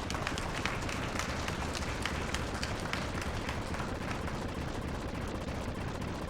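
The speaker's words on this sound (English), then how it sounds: "In Contra, we shoot these things in the air for no reason." Dense, continuous rapid-fire gunshots and blasts from the Contra III: The Alien Wars video game, a constant loud barrage with busy game audio and no pauses.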